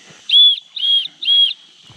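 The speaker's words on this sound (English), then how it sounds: "The old Camelback's got the rape whistle on it." A safety whistle clipped to a green Camelbak backpack is blown three times in quick succession, each a shrill, steady blast of about half a second, close and loud, with no voices.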